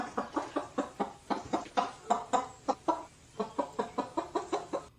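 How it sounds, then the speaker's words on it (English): A chicken clucks in a quick, repeated rhythm, around twenty short, evenly spaced calls that pause briefly midway, heard close and fairly faint with no talk over them. "That's a get back chicken right there."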